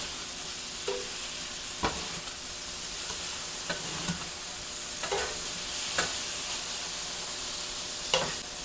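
Mongolian style beef in sauce with cornstarch sizzling on a Vevor 22-inch flat top griddle, a steady close hiss broken by scattered sharp scrapes and taps of a spatula.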